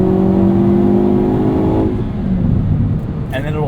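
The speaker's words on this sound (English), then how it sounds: "Those downshifts." A 2022 Hyundai Kona N engine revs loudly through downshifts, a strong close drone with falling pitch sweeps that drops into a rougher rumble, followed by a brief voice near the end.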